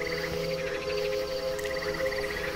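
Frogs croak in a steady chorus, with repeated rapid chirping pulses over sustained droning tones that run throughout.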